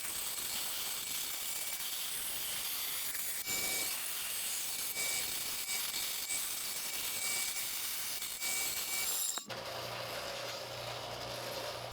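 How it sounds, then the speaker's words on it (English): A bandsaw cuts out a bass guitar pickguard with a steady, close whirring and rasping that holds for several seconds, then drops to a lower mechanical hum. "Now I'll cut this out of the bandsaw."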